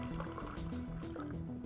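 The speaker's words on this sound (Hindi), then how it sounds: "ये पानी डाला मैंने" Water is poured steadily into a container during a water-into-milk magic trick, a continuous close liquid gurgle with soft splashes and a faint drip throughout.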